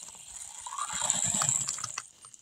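Sediment-laden water and gritty slurry drain from a water heater, giving a faint, close gurgling splash with a rattling, crackly texture that swells and then tapers off.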